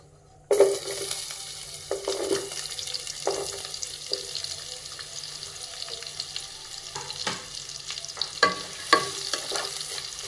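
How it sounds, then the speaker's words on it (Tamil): Sliced onions sauté in hot oil with cinnamon, cloves and cardamom for a mealmaker biryani, a continuous sizzle punctuated by irregular clacks and scrapes of a ladle stirring, loud and close. "வெங்காயம் நல்லா வதங்கட்டும்."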